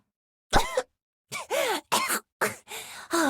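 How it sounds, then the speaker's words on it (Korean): A series of harsh, voiced coughs from a choking video game character in Trickcal Revive, in short bursts, about five or six, separated by brief silences, close and fairly loud. "사례가 들려서 기침이 안 떨어지잖아"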